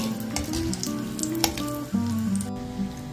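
Cashews fry in ghee in a pan, a steady close sizzle with scattered crackles and pops throughout, while a tonal musical drone plays in the background.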